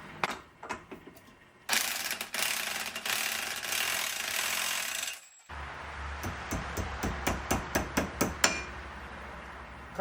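A torque wrench ratchets repeatedly as a castellated axle nut on a 1984 VW T3 Vanagon is tightened to 360 foot-pounds, giving loud clustered clicks, a long continuous burst, then a steady series of sharp evenly spaced ratchet clicks.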